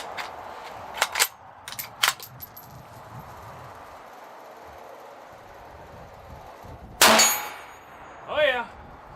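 A CZ 527 bolt-action rifle in 7.62x39 fired at a steel target outdoors, several sharp cracks followed by a bright ringing clang from the struck steel, with a voice briefly heard near the end.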